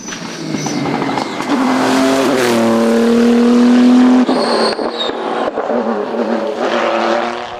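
Loud engine of a Volvo race car with a Chevrolet V8 at a production-class event, roaring and revving close by with rising pitch, a sharp shift around four seconds in, then continuing at full throttle.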